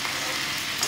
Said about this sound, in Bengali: মাথাগুলো ভাজা হয়ে যাচ্ছে, তুলে নেব।